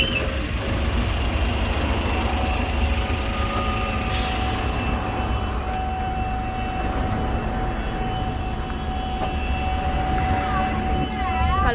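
A bus pulls up with a steady heavy diesel rumble and the brief hiss of air brakes, heard as loud street noise.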